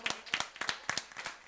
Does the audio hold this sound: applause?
yes